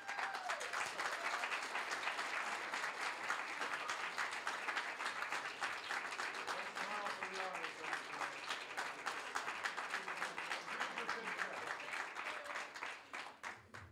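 A crowd applauds steadily for over ten seconds, a dense rattle of many hands that tapers off at the end.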